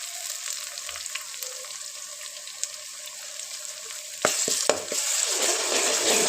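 Chopped onions frying in oil in a pan for a Punjabi chicken curry, a steady close sizzle with stirring scrapes and a few sharp clatters toward the end, no talking.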